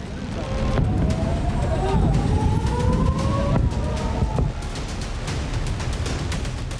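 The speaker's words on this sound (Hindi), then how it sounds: "मैरून और नेतुआ इलाके में सायरन की गूंज सुनाई देने लगी" A loud warning siren over Hezbollah rocket fire in northern Israel sweeps up and down over rumbling traffic and voices, then fades, leaving crackling noise and a steady background roar.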